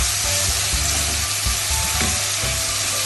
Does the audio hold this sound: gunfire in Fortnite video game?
no